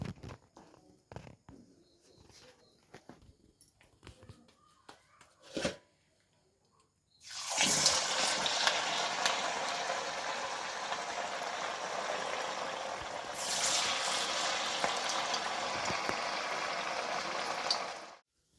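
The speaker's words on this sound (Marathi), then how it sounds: "कडकडीत झालं. आता तेलात सोडते." Corn cutlets made with semolina and poha flour drop into hot oil. Faint clicks and handling noises lead into a loud, continuous sizzle that holds for about ten seconds and swells briefly midway.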